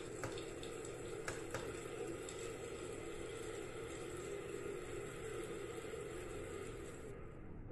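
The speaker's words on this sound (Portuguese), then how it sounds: "Som do chuveiro." Steady broadband rush of running shower water, constant and fairly soft, with no voices.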